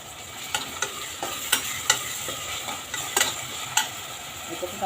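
Onion and tomato fry with salt for masoor bhat, a steady sizzle broken by repeated sharp scraping strokes of a spoon against the pan.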